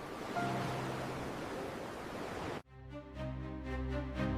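Ocean waves on the open Atlantic during Columbus's 1492 voyage, a steady broadband wash of surf that fills the first part and then gives way abruptly to a sustained musical drone.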